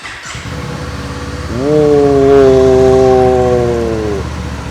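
Kawasaki Eliminator 500 cruiser motorcycle with a Ninja-derived engine starts and revs: a low rumble that swells into a steady, smooth, loud drone, holds for a couple of seconds, then eases off. A short exclamation is heard early on.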